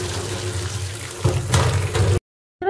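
Prawns being rinsed with salt and water in a basket, running water splashing steadily and swelling in two louder surges before cutting off abruptly, then resuming briefly.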